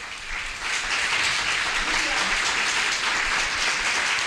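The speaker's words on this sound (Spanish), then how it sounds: "Dale un aplauso, dale un aplauso." A church congregation breaks into sustained applause during a Spanish-language sermon, a dense, steady wash of clapping that stays loud and even for several seconds.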